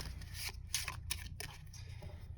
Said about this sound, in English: Then you're going to shuffle these up.